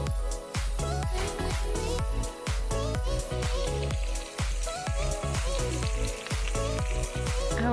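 Steak sizzles in a pan with thyme and butter at a getaway cabin in Asheboro, NC. The frying hiss runs steadily under a rhythmic backing beat.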